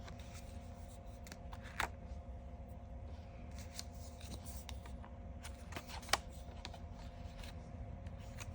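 Scissors snipping through scrapbook paper, quiet close crisp snips at an uneven pace with a couple of sharper clicks, over a low steady background hum and no talking.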